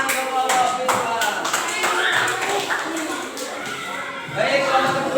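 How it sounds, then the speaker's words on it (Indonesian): A classroom group claps for fellow students after a presentation, a looser scatter of distinct hand claps with some overlapping voices and murmuring in the room, fairly close and moderately loud. "Kasih tepuk tangan untuk kelompok visual."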